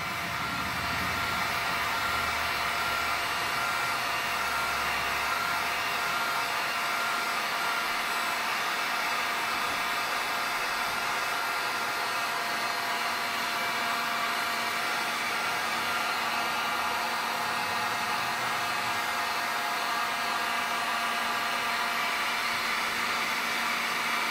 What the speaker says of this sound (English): You want to keep the heat gun moving.